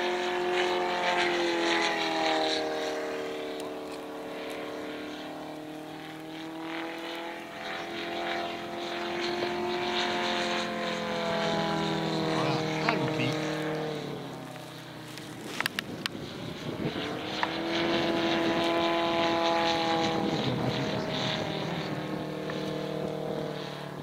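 A small model aircraft engine buzzes steadily at an aeromodelling meeting, its whining pitch rising and falling as the plane circles and passes nearby, with a brief dip in the middle before the drone returns.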